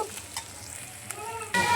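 Onions fry with cardamom, cinnamon and bay leaf for a chicken curry, sizzling softly with short stirring scrapes, then a louder burst of sizzle near the end.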